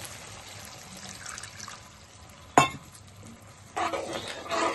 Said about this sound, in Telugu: నీళ్ళు పోసుకుందాం